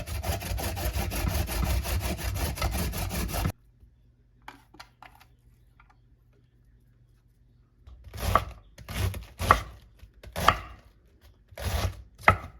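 Cabbage being chopped into thin shreds with a knife: rapid, steady board-tapping for several seconds, then a quiet pause with faint clicks, then a series of loud, separate knife strikes on the board.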